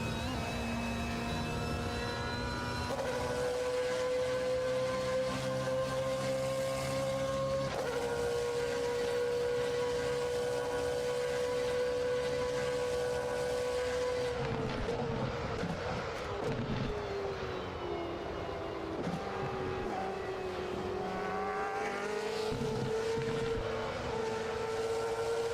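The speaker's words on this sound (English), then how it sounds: "I want you to enjoy the track and also the sound of the car here a little bit" Flat-plane V8 race car engine in the Automobilista 2 racing game, a loud, steady, high-pitched engine note that holds, climbs and drops across gear changes for the whole stretch, with no talking.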